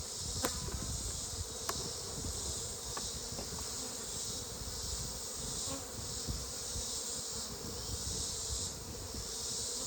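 A dense swarm of honey bees hums continuously up close in a hive, a steady buzzing drone with a few sharp clicks scattered through.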